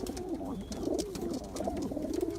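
Several pigeons of a prized fancy breed coo nearby in overlapping soft, rolling calls, repeating steadily throughout with no voices.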